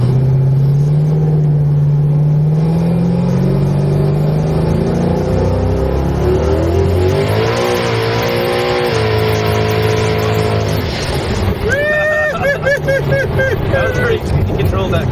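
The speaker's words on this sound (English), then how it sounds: "Look at that fucking burnout, dude." A 1500 wheel-horsepower Chevrolet Camaro does a tire burnout, its engine roaring loud and close with wavering, rising and falling revs, and people's voices mixed in.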